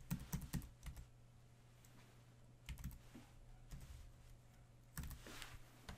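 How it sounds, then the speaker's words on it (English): Computer keyboard keys tapped in several quick bursts while entering a domain name, with pauses between groups of clicks; close and fairly quiet over a low steady hum. "Enter the name of the domain you own."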